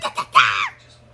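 A person lets out a loud, sharp scream lasting about half a second after two short vocal bursts, close to the microphone over a low steady hum, during a Smash game session.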